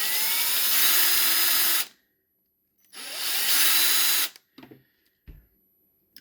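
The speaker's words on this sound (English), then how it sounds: "Chuck it right in your drill like such. And take your sanding sponge" A power drill spins a small nitro engine part, from an Ofna Picco 3 port .12 block, against a sanding sponge: two steady whirring runs of about two seconds each, close and loud, followed by a few short handling knocks.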